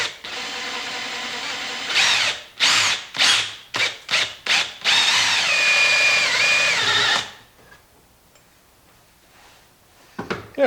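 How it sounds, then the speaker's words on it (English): Power drill boring into the plastic lid of a Good Ideas Compost Wizard Jr compost tumbler: several short whirring bursts, then one long steady grinding run, followed by near silence and a few faint clicks. "first one I was drilling"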